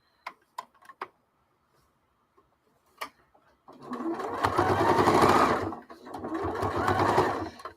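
A few sharp clicks and ticks come first, then a sewing machine starts stitching, running loudly and steadily, pausing briefly, then running again.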